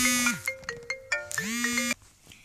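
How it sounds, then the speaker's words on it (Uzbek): An electronic phone ringtone plays a bright, bouncy melodic tune with pitch-sliding notes, fairly loud and close, then cuts off abruptly. "telefon kelib qoldi"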